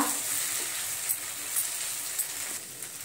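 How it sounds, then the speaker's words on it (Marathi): Steady close sizzling and frying of a capsicum-potato vegetable dish as grated fresh coconut is stirred in, with faint scraping taps of the spoon in the pan, no talk. "इथे आपण खोबरं टाकून सर्व मिक्स करून घेऊया"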